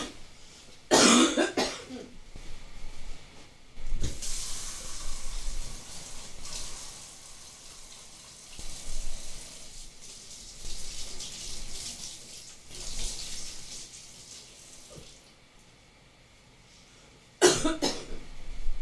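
Several harsh, barking coughing fits break out at intervals, loud and close, with quieter stretches of running water and rustling between them.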